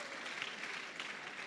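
A church congregation applauds in a steady, dense wash of clapping lasting under two seconds, fairly faint and diffuse, with no individual voices standing out.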